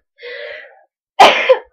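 A single harsh cough rings out close and loud after a brief soft breathy sound, then trails off.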